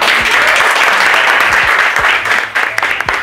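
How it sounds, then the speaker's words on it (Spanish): Loud, dense applause from an audience at a town welcome event, sustained clapping that thins toward the end. "Pues darle un caluroso aplauso a"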